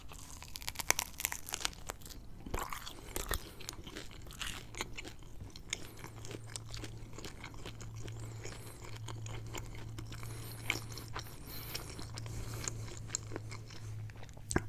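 Crunchy crust of a Lil Yachty pizza is bitten and chewed close up, giving a string of crisp cracks and crunches followed by steady wet chewing, with no talk.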